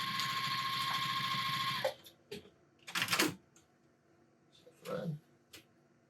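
A JUKI TL-2010Q sewing machine stitches one ply of 3mm felt, a steady rapid mechanical whir for about two seconds, then stops and leaves quieter clicks and handling knocks.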